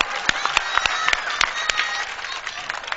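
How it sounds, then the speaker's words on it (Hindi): An audience claps under a mushaira tent at a 2010 Pratapgarh poetry gathering, the claps sparse and scattered with separate hand strikes over a low murmur. "पूरे पंडाल में जोरदार तालियां बजाकर मुझे इजाजत दीजिए"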